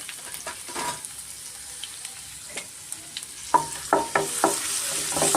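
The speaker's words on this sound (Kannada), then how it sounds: "ಬೆಳ್ಳುಳ್ಳಿನ ಚೆನ್ನಾಗಿ ನಾವು ಗೋಲ್ಡನ್ ಕಲರ್ ಬರೋವರೆಗೂ ಫ್ರೈ ಮಾಡ್ಕೊಬೇಕಾಗುತ್ತೆ" Garlic frying in ghee in a pan until golden for garlic rice: a steady sizzle, then a run of sharper spatula scrapes and stirs in the last two seconds.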